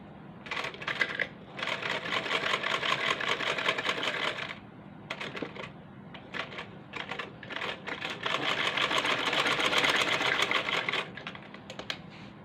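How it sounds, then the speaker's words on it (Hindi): A sewing machine stitches lace onto kurti fabric, working slowly through the thick double layer in bursts of rapid, close stitching separated by short pauses, with no talk over it. "तो अब आस्ता आस्ता इसको सीते जाना है क्योंकि ये लेस और कपड़ा दोनों मिलके काफ़ी मोटा हो गया।"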